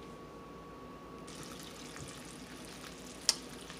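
A candy mixture cooks on the stove toward 250 degrees, giving a quiet, steady bubbling simmer with one sharp click near the end.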